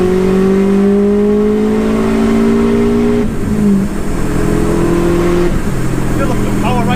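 A stock, fully built 530 bhp Subaru WRX engine revs hard toward the red line, its loud rising whine climbing through the gears in long pulls with brief dips between shifts, heard close from inside the car with voices talking over it.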